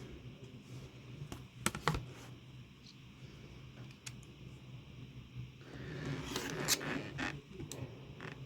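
Rotary cutter and ruler trimming small pieces of quilting fabric for a sewing block, a few quiet scraping cuts close by, with a brief rustle of fabric partway through, no talking.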